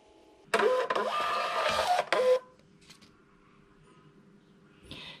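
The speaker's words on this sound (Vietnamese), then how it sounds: "Bấm in nè." A thermal label printer prints a shipping label with a loud, close mechanical whir lasting under two seconds, a brief pause and a short burst, then quiet with a faint click at the end.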